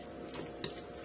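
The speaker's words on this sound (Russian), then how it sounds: "добавляем майонез и все перемешиваем." A spoon stirs a salad dressed with mayonnaise in a bowl, giving a soft, wet, faint sound with one small clink near the middle.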